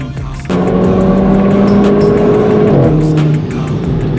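Renault Clio 4 RS Cup engine under hard acceleration, a loud close drone that climbs in pitch, then drops with a gear shift near the end.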